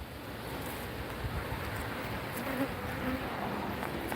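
A steady, dense hum of many honeybees buzzing around backyard hive boxes and nucs, an even outdoor drone with a few individual bees passing nearer, no talking.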